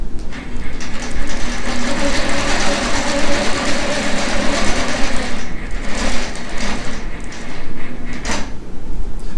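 A long arm quilting machine on its frame stitching a facing onto a quilt, giving a steady close mechanical whir with rhythmic needle chatter that fades and resumes in bursts toward the end, with no talking.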